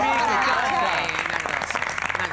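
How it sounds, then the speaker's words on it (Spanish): Studio audience on a Argentine TV dance-debate show breaks into applause as singing ends, clapping building to dense irregular claps in the second half, with voices over it. "Un aplauso para Nacha."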